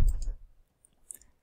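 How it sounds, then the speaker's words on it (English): A computer mouse gives a single crisp click close up, a short, dry tap followed by a faint second tick in otherwise quiet surroundings. "I'm going to click install basic"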